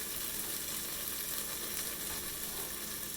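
Minced garlic and ginger sizzle steadily in a hot frying pan, a bright, constant hiss of frying oil heard up close with no talking.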